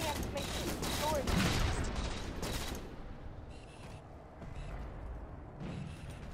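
Halo 4 gunfire during an online Legendary Doubles Slayer match on the Pitfall map, with dense rapid bursts in the first few seconds and sparser shots after. Players talk over the firing.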